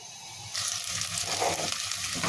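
Onions crackle and sizzle steadily in hot oil, the frying growing louder partway through with soft stirring scrapes, no voices.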